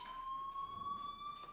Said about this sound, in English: Hey, do you hear that fire alarm? That means you should be outside.